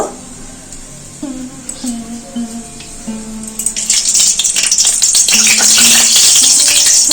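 Whole garam masala spices crackle and sizzle in hot white oil in a kadai, a quiet start that swells into loud, dense frying hiss with spoon stirring; steady harmonic tones run underneath, but no words are spoken.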